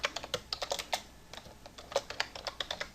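Quick, irregular clicking of keys on a computer keyboard, close and quiet, with no voices.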